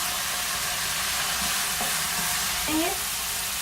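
Chicken and carrots stir-frying in a pan, a steady loud sizzle with a scrape of stirring, close up and without talk.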